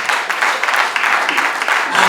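Dense applause from a crowd at a church wedding gathering, steady continuous clapping that fills the space, loud and close, with no clear talk over it.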